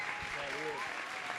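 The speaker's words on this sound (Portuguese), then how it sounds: "palmas para o Ricardo Cardim" A debate audience claps briefly to welcome guest Ricardo Cardim, the applause mixing with a voice talking over it at close range.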